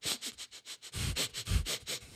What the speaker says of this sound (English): He began to sniff.